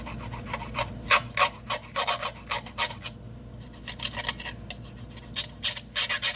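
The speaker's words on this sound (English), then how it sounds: "I grate this in with the fork" A clove of garlic is grated against the tines of a fork, making a rapid series of close, dry scraping strokes with a short pause midway.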